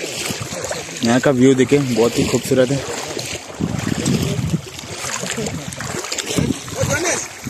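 Motorbike riding across the Gabhoru river through water, with splashing and wind noise around it, heard under loud nearby talking.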